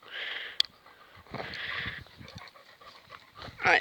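Dog panting close by on a countryside walk, quick breathy bursts amid rustling and footsteps, with a brief sharp click and a short whimper-like sound at the end.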